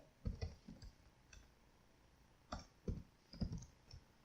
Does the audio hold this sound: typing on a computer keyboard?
yes